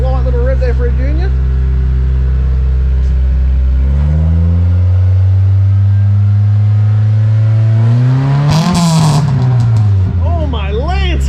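Engine of a Mitsubishi Mirage project rally car revving through a newly fitted exhaust, loud and close, rising in pitch and falling back from a steady idle, with people talking over it.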